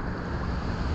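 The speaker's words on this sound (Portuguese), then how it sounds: "Ó o marzão de Peruíbe, rapaziada, ó. Você tá doido, bicho? Tá feio. Um ventinho gelado, ó." Cold wind at the sea in Peruíbe, Brazil rushes across the microphone with a low, broad roar, like surf in the background, with no voices.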